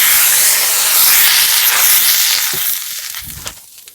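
Water sprinkled onto a hot pan for a mung dal dosa bursts into a loud, close, broad hiss of steam that holds steady for almost three seconds, then dies away with a few soft scrapes.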